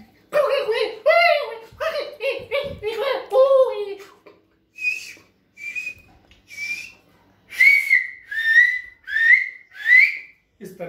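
A storyteller's voice narrates in Hindi, then whistles a series of short, bright, rising chirps imitating a pet parrot singing in its cage, close and clear in a quiet room.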